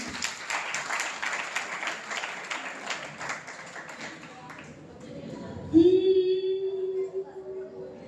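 An audience at a Jain poetry gathering in a Surat temple breaks into brisk applause that fades out after about five seconds, followed by a sung or sustained vocal tone starting up.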